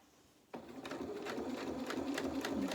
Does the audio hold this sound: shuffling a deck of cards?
no